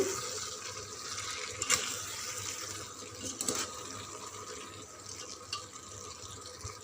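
Water is poured into a bottle gourd and moong dal curry in a cooker, a quiet splashing trickle with a few brief clinks and stirring taps.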